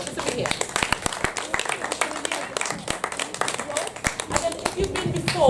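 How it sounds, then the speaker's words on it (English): Scattered, light applause from a small crowd, uneven claps mixed with murmuring voices and chatter. "By round of applause"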